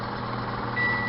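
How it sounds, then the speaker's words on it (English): Kitchen timer beeping after five minutes while healthy fried green tomatoes cook, a steady high electronic tone starting near the end over a constant low background hum. "there's our 5-minute timer"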